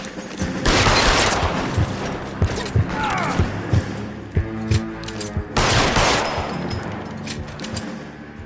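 Bursts of automatic gunfire in L.A. Noire rattle loudly in long volleys, broken by single sharp shots and short pauses, with a brief voice between the bursts.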